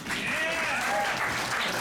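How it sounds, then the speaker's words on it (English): A showcase crowd gives itself a round of applause, a short burst of dense clapping and cheering, loud and sustained, with some voices mixed in. "Give yourself a round of applause."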